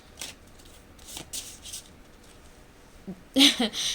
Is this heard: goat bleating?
no